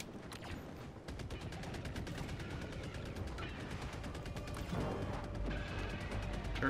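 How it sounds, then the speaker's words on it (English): Automated turret in Helldivers 2 firing rapid bursts at enemies, a fast rattling stream of shots set back in a busy battle mix, fairly faint and continuous. "Turret's popping up on something over there."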